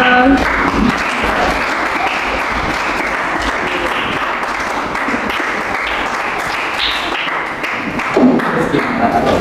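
A junior high school class claps for a presenting group, a close, lively burst of many hands in a classroom, sustained and fairly loud with uneven rhythm and a few thumps, with some voices mixed in.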